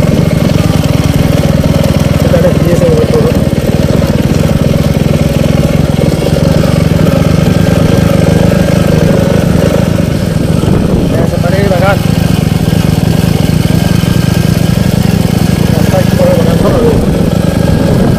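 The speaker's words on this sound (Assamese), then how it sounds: "মই আমাৰ দেখাব চেষ্টা কৰিছোঁ এখন বাইক চলাই" A motorcycle engine runs steadily and loudly throughout while the bike is ridden along a rough, bad road past green gardens, its drone constant and close.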